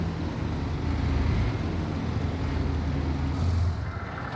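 A farm vehicle's engine idles in a farming simulation game, a steady, loud, broadband rumble that continues unbroken and without talk.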